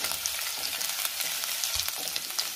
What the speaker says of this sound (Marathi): त्यातच आलं घालायचे आणि हिरवी मिरची घालूया आणि 1 मिनिटभर चांगलं परतून घेऊया